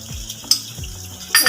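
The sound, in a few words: beef frying with ginger garlic paste in a pot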